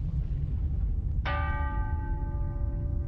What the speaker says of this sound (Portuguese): todos os sinos das igrejas na cidade começam a tocar, sozinhos.